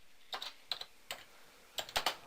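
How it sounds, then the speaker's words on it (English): Keys tapped on a computer keyboard while filling in an invoice, in short clusters of crisp clicks with brief pauses, close and fairly quiet, no speech. "I'm going to type in"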